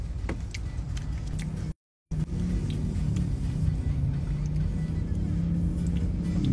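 Low engine rumble inside a car idling in a traffic jam in Tanjung Priok, steady and muffled, broken by a brief cut to silence early on.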